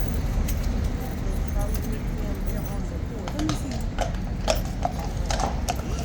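Horses' hooves clip-clop on pavement at Horse Guards in London, a scattered run of sharp clops that grows more frequent halfway through, over a busy outdoor background with people talking.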